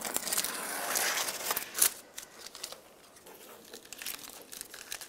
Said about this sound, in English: Then you can take the tape off.